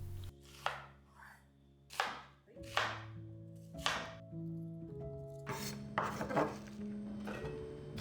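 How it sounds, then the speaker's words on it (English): A kitchen knife chops half a red onion into large petals on a cutting board for a rice-cake stir fry, giving about nine crisp, evenly spaced thuds over a faint tonal background. "I'm just going to cut some big petals out of them"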